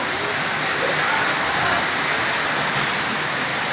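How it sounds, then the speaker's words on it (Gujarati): Heavy rain driven by wind during a monsoon downpour in Ahmedabad, heard as a steady, dense hiss that fills the whole clip without a break. "વરસાદ તો પવન સાથે વરસાદ છે"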